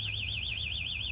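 A car burglar alarm going off, a loud continuous warbling electronic siren rising and falling rapidly and evenly over a low steady hum.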